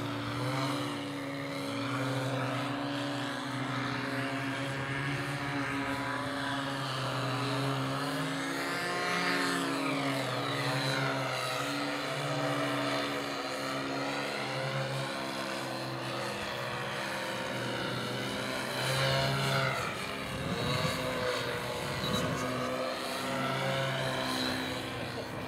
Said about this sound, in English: Trying to do some more hovering. That's called a profile. Very 3D acrobatic plane.